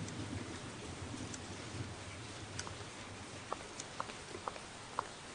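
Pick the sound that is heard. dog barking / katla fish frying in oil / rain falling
rain falling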